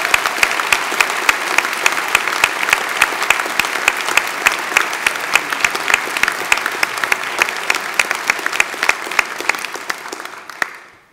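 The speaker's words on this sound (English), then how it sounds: "So can we have a round of applause for my very special friend?" Audience at a Milton Keynes degree ceremony applauding in a dense, sustained round of clapping that carries on evenly for several seconds before fading out at the end.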